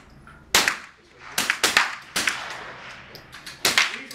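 .22 rifles fire at a state shooting championship, sharp cracks ringing out in an uneven series of about eight shots, some nearly overlapping, with faint voices between them.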